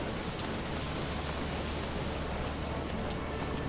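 Steady rain pouring in a video game scene, a dense, continuous hiss of drops on surfaces, loud and even throughout with no voices.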